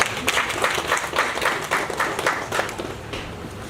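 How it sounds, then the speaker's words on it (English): An audience at a maritime industry stakeholder sensitization event applauds, a steady patter of many hands clapping at moderate distance, tapering slightly toward the end. "Please, a round of applause for him."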